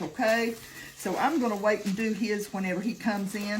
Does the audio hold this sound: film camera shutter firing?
no